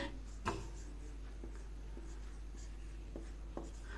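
Pen or chalk writing during a lesson, with faint intermittent scratching strokes and a few sharp taps over a steady low hum, close and quiet with no clear talk.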